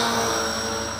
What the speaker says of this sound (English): V262 quadcopter